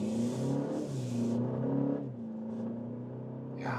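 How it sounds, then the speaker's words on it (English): A BMW M235 Gran Coupe accelerates hard up to road speed, its engine note climbing through two quick gear changes with a short break between them, a steady nearby rumble heard from inside the car, and no talking. "nice acceleration onto the motorway, or just normal road here"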